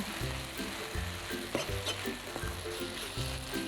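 Noodles for rad na sizzle and crackle as they are stir-fried in a pan, with repeated scraping stirs in an irregular rhythm, close and moderately loud, without talk.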